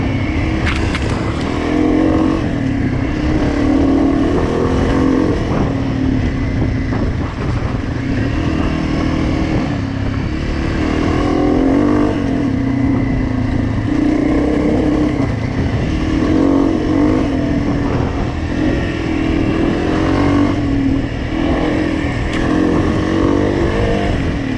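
A trail dirt bike roars continuously on a raw trail ride while the rider pulls wheelies, a loud, close, sustained engine drone with rising and falling revs throughout.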